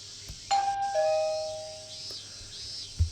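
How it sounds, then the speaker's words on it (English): A doorbell in the Higurashi video game rings with a clear two-tone chime, heard once at moderate volume with a faint background hum and a soft thump at the end. "I could hear the doorbell ringing"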